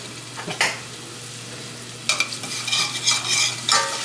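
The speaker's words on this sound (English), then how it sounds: "here it's sizzling" Garlic and Italian seasoning sizzle and crackle in a hot pan, with quiet stretches broken by bursts of stirring and scraping, close and fairly loud.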